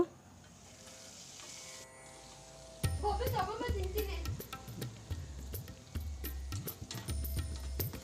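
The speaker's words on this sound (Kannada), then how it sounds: "ಈಗ ಇದನ್ನೆಲ್ಲ ಚೆನ್ನಾಗೆ ಫ್ರೈ ಮಾಡ್ಕೊತೀನಿ ಸಿಮ್ಮಲ್ಲಿ ಇಟ್ಕೊಂಡು ಇದನ್ನು ಫ್ರೈ ಮಾಡ್ಕೊಬೇಕು" Onion, green chilli and curry leaves fry on a low flame for a moong sprout and bean stir-fry, a soft steady sizzle with crackly bursts and utensil clatter nearby, after a quieter opening with faint background hum.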